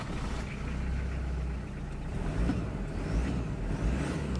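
A 1993 Land Cruiser Prado 70 Series turbo diesel with automatic transmission idles nearby, giving a steady low engine rumble with no talking.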